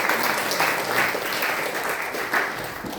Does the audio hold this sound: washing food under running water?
no